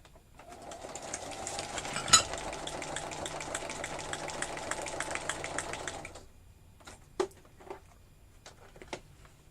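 Domestic sewing machine running a zigzag stitch around fabric edges, a close rapid mechanical chatter for about six seconds, then stopping and leaving a few scattered clicks and knocks.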